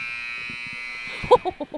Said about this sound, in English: There's a shot by Landon Hall at the buzzer